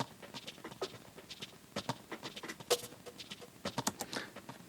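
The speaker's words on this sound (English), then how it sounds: "I've got this texture percussion, which is just a sample from a percussion loop from my sample pack" Glitchy, shaker-like percussion loop sampled from a sample pack for a house track, with dense clicky hits and rattles in an uneven, busy rhythm, played alone at moderate level.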